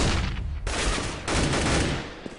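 Gunfire in a Counter-Strike match, including a grenade and an AWP sniper rifle, comes in dense bursts that drop off briefly and then resume at full strength, loud and close with no talking over it.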